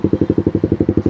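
A Suzuki GSX R150 motorcycle with a modified Proliner exhaust idles close by, a loud, fast, even pulsing thump of regular exhaust beats with no talk.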